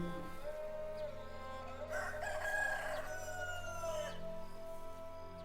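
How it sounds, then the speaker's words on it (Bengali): A rooster crows as a sound effect in a Bengali radio play, a drawn-out call rising in the middle over a steady low background hum, heard alone without talk. "একটা মোরগ ডেকে উঠল"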